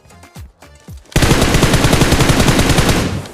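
Automatic gunfire in the mobile battle royale game BGMI begins after a few sharp preceding shots, then runs as a loud, rapid, continuous burst of machine-gun fire.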